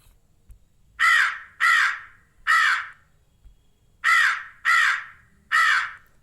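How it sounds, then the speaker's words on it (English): Six loud, harsh crow caws arrive in two groups of three, evenly spaced with short pauses between, clear and close against a quiet background. "Yes, this is the sound of a crow."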